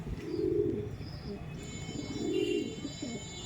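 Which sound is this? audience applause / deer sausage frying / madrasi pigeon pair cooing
madrasi pigeon pair cooing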